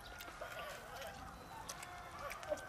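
Chickens cluck faintly against a steady, noisy background, with a few short cackles and no clear foreground voice.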